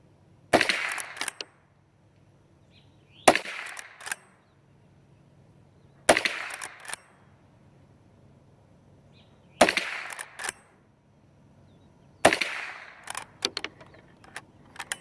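Five sharp, loud gunshots from a Henry rifle and a Rossi gun, fired one at a time about three seconds apart at an outdoor range, each followed by a short rattle of the action and a quick echo.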